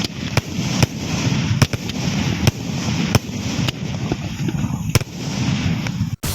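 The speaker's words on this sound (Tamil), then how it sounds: "நடப்பாண்டின் புதிய ரக ஃபேன்சி பட்டாசுகளின் வான வேடிக்கை" A display of new-style fancy firecrackers and fireworks at a public event: a string of sharp, loud bangs at uneven intervals over continuous crackling and rumbling bursts, close and dense throughout.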